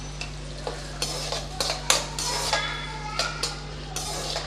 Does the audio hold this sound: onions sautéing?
yes